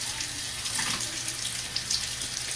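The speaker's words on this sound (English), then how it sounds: "Rinse my hands a little bit." Hands rinsed under a running tap while shaving with a straight razor, a steady close hiss of flowing water with faint splashes throughout.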